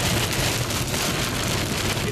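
Heavy rain pours during a tornado near Pleasanton, Nebraska in June 2011, a loud, dense, unbroken roar of rain on surfaces with a low rumble beneath and no voices.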